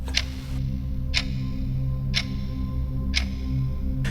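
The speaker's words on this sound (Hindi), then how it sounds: "ये घड़ी की टिक टिक थी जो बहुत देर से सुनाई दे रही थी।" A clock ticks steadily, four crisp ticks about a second apart, heard close and clear over a constant low hum.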